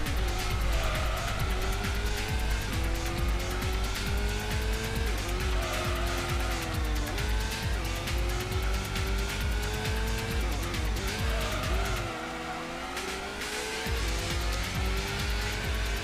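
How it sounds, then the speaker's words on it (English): A Subaru Alcyone SVX race car in Gran Turismo on PS1 accelerating hard, its engine note climbing steadily through repeated gear changes with occasional tire squeal, loud and continuous, briefly dipping near the end. "this car does accelerate pretty good once it gets past like 60 miles per hour"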